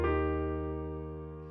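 A piano sounds a single sustained chord with a low bass note from a tutorial piece, struck once and left to ring, fading slowly and evenly.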